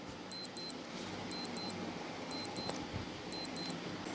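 A quiz countdown timer sounding in a regular pattern of paired high electronic beeps, four double-beep bursts about one second apart, bright and clear over a faint background hiss.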